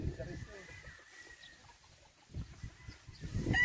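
Fighting roosters on a farm give out clucks and short fowl calls near and far, the bird sounds mixed under people talking close by.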